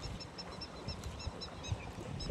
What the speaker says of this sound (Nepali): चराको चिरबिर